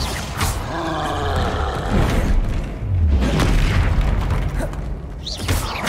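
Repeated explosive spell blasts in the Hogwarts Legacy video game, a dense stretch of deep booming impacts and rumbling roar with crackling debris, loud and close throughout with swelling bursts near the middle.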